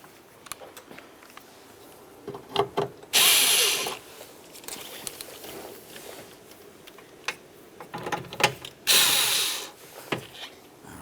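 Mounting bolts for a window regulator in a 2012-2018 Nissan Altima are tightened with a ratchet, giving quick clicking bursts, with two louder whirring power-tool runs close by.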